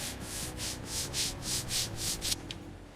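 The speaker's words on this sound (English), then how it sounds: "Silky sanding strokes, shaping the body back to perfection." Body filler on a Ferrari car body is sanded by hand in about nine rhythmic back-and-forth rasping strokes, close and crisp, the last strokes shorter before stopping.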